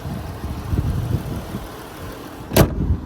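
A 2012 Dodge Charger police car with a 3.6 engine and fresh oil idles nearby in a low, even rumble with soft pulsing, broken by one sharp click near the end.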